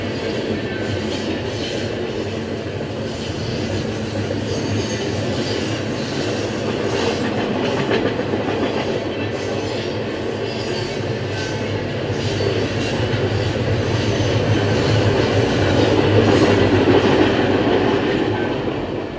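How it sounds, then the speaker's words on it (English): A train rumbles past continuously, with rolling wheel clatter and steady broadband noise swelling slightly louder near the end; no voices. "that train's done being rude and interrupting me"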